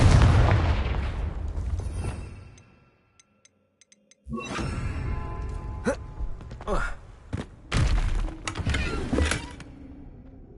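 A Confringo fire spell cast in the video game Hogwarts Legacy, heard as a few loud booming blasts with crackling bursts after a brief quiet gap, the explosions standing alone without talk.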